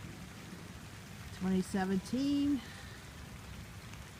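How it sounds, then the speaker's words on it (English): Steady rain falls over a flooded street in the Gentilly section of New Orleans, a broad even hiss throughout, with a brief spoken phrase in the middle. "And it's still raining."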